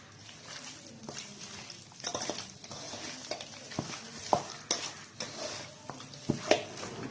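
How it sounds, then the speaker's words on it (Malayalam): Chicken pieces being mixed with masala powder and salt for chicken dum biryani, irregular wet squelching stirs and clinks of a utensil on a vessel, close and moderately quiet with a faint sizzle. "മസാലപ്പൊടി, ആവശ്യത്തിന് ഉപ്പ് ചേർത്ത് നല്ലതുപോലെ വിരകിയെടുക്കുക."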